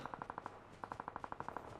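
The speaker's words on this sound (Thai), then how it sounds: "ได้ยินแต่เสียงปืน" Two quick bursts of rapid automatic gunfire in Call of Duty Mobile, sharp and evenly spaced, fairly faint and distant.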